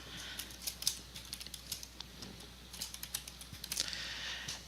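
Quick runs of key clicks from typing on a computer keyboard, close and fairly quiet, with brief pauses between the bursts and no voices.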